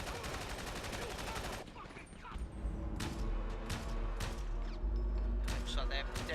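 Pistol gunfire in GTA V during a gang turf fight, rapid cracking shots in dense volleys, then sparser sharp bursts over low rumbling, with a voice talking throughout.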